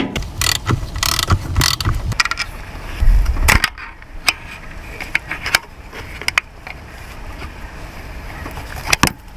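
A ratchet wrench works the fuel pump bolts on a 1973 International Scout II, giving close, sharp clicking bursts and metallic ticks in uneven spurts, with louder handling knocks early on.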